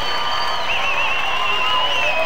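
Crowd at a bodybuilding contest in a large hall, with sustained cheering and whistling as a steady roar and a commentator's voice running over it.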